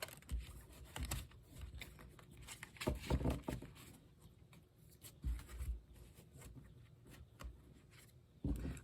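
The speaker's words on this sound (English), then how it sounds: "Let's do some shuffling." Tarot cards being shuffled by hand, giving soft papery riffles and patters in irregular bursts, quiet and close, with no talking.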